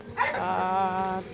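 Dog yelping and whimpering up close in a residential compound, a single drawn-out whiny vocalisation lasting about a second, with a brief sharper yip at the end.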